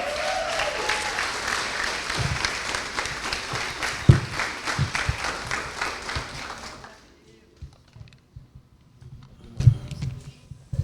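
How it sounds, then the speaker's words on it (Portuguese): A congregation at a Sunday church service claps for a pastor, a steady round of applause that stops abruptly, followed by sparse thumps and quiet room noise. "Vamos aplaudir a pastora Vanessa"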